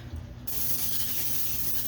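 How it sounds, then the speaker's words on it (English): A steady hiss of cooking spray onto a baking pan starts about halfway through and runs continuously, close and fairly loud, with no talking. "I'm just going to take some more pan and spray it"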